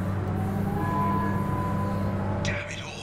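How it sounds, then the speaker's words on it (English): A tram in Mass Effect 2 rolls along with a steady low mechanical rumble and faint whine, ending in a brief high screech as it slows; a voice speaks over it. "let's use the tram"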